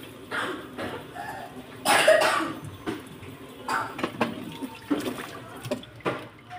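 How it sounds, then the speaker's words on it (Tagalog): A few soft coughs from a child nearby, mixed with running water and clattering dishes in a busy kitchen. "Ang anak ko, inuubo pa rin."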